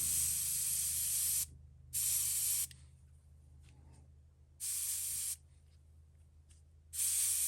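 Bursts of paint from a spray gun at lowered pressure coating a fishing lure, about three steady hissing blasts of a second or so each, separated by quiet gaps, close and fairly loud with a low background hum.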